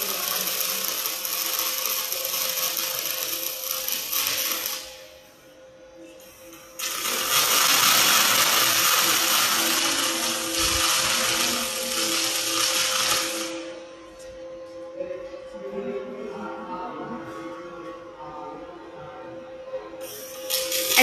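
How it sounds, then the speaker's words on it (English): A welding robot positioner rotates the workpiece in an automated welding cell, giving a loud, steady mechanical whir with a short dip and a steady hum beneath. No voices are heard. "Another positioner rolling to another side."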